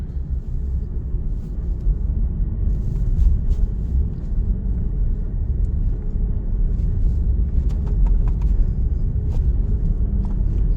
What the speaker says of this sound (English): I'm accelerating and then letting off